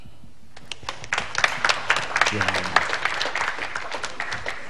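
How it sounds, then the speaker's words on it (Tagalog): Men in a comedy show audience break into clapping that builds after a second and continues in scattered, fairly close claps, with a voice talking over the applause. "lahat po ng mga kalalakihan pumalakpak"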